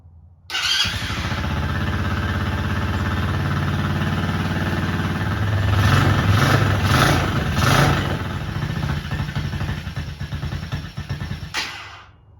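A quad ATV engine catches after a cold start and settles into a loud, steady running note close by, with rough revving and mechanical clatter swelling midway before it cuts out near the end.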